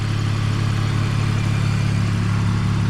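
A 2001 BMW E46 engine idles steadily with its normal light ticking, a close, continuous low hum with even mechanical texture throughout.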